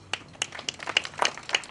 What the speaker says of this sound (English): I think that really welcomes a round of applause.